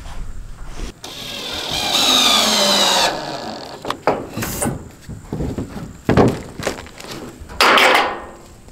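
Bursts of a cordless drill driver whirring in short runs, with one long sustained drive followed by several brief spins and clicks close by, driving screws into metal roof panels on a mobile home.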